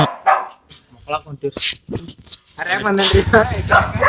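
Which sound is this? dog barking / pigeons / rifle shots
dog barking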